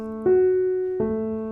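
Two piano chords struck about a second apart without the sustain pedal, each tone clear and ringing briefly before fading, with no talking.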